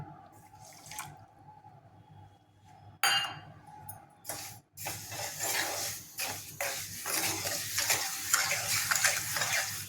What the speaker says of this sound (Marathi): आणि या साखरेचा घट्ट पाक होईपर्यंत आपण याला शिजवू.